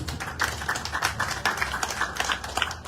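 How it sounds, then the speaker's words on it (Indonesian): Scattered audience clapping at a speech by the Badung regent, uneven claps with a low background rumble, moderately loud, no talk over it. "Tepuk tangan dulu nih"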